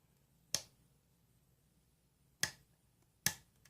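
Lock being picked by hand, three sharp, isolated clicks from its pins spaced out over a quiet background, close and crisp.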